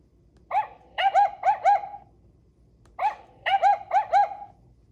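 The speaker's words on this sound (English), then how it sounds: "Where is the dog?" A dog barks in two clear, close groups, a single yip then a run of three or four quick barks, repeated after a pause over near silence.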